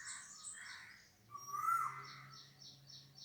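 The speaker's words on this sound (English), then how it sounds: "Listen to the birds, listen to the nature." Birds calling outdoors in a natural setting during a quiet yoga session, with repeated short chirps and a brief louder whistled call, fairly faint and alone.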